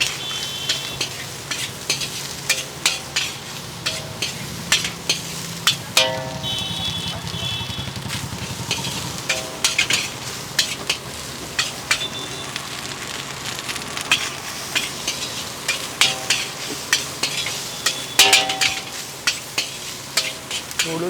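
Basmati fried rice with chicken masala stir-fries at a street food stall, a constant loud sizzle broken by rapid metallic scrapes and clangs of a spatula against the wok, with no voices.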